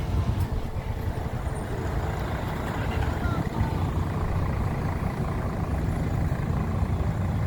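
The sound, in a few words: street traffic with idling trucks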